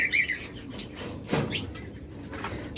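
A split blue pair of pet budgerigars for sale chirp in short bright bursts, with a brief flutter of wings partway through, close by and fairly quiet, with no talk.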